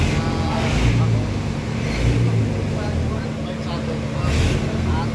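A Kubota KX27 mini excavator engine, in a motorpool ahead of an engine overhaul, running at a steady loud idle with a deep low rumble and faint rhythmic knocking throughout.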